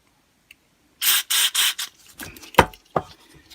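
Short hissing bursts of carburettor cleaner sprayed through the jet holes of a Honda HRH536 lawn mower carb after two years of storage, three quick close blasts followed by sputtering, dripping spray-back.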